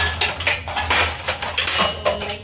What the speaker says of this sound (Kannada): ಕೆಲವೊಂದು ಪಾತ್ರೆಗಳು ಜೋಡಿಸಿಲ್ಲ ಅಲ್ಲೆಲ್ಲ ಬಿದ್ದಿದೆ ಸೊ ಅದು ಸ್ವಲ್ಪ ಜೋಡಿಸ್ಕೊಂಬಿಟ್ರೆ